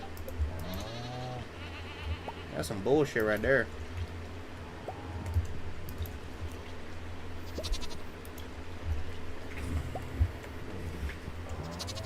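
Goats bleating in the farming video game Stardew Valley, a few short wavering bleats around the middle of the clip, mixed with game music and a voice talking over them.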